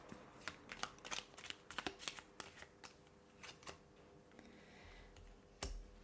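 Tarot cards being shuffled in a steady run of crisp riffling bursts and slaps, fairly close and clear, with a brief pause and a final soft thump at the end, no talking.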